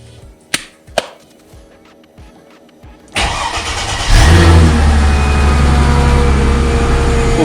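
A Chrysler Crossfire running 100% E85 ethanol starts from cold after a few clicks, catching with a burst and settling into a loud, rough idle that swells with revving.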